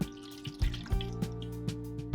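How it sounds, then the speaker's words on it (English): Lukewarm water poured onto fresh yeast while making pizza dough on a sailboat, soft irregular drips and trickles with small splashes every half second or so, close and quiet with no talk. "we're gonna resolve the fresh yeast with the lukewarm water"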